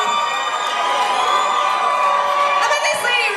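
Race fans in a motor speedway crowd cheer, whoop and shout with high-pitched screams, a dense, loud and continuous wall of excited voices with no pauses.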